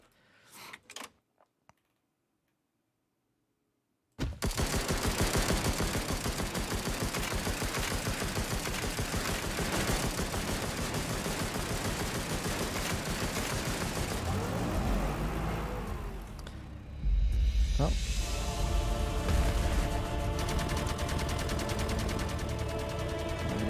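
Turrets fire nonstop in the video game Dysmantle, a loud, dense barrage of rapid shots after a brief quiet opening, with the sound thickening and shifting in the later stretch.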